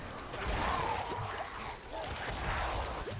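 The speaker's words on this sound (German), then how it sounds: "Diese Explosionen sind einfach zu fies." Rapid bursts of explosions and clattering combat effects in the action role-playing game Diablo IV, dense and continuous over a few seconds, with a voice talking faintly underneath.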